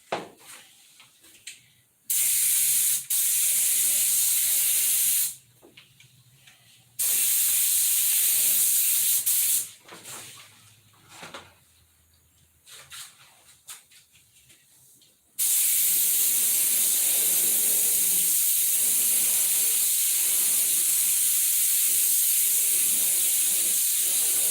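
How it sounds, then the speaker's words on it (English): A paint sprayer, giving less overspray than an airbrush, lets out several loud, steady hissing bursts of varying length with quieter handling and rustling between them, then one long sustained spray to the end. "This doesn't put out as much overspray as the airbrush."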